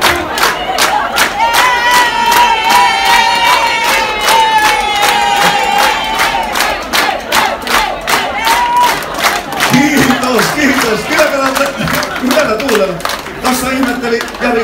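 A crowd of about 2000 at a dance pavilion cheers and shouts loudly and continuously, with massed voices and sharp rhythmic claps close and dense throughout.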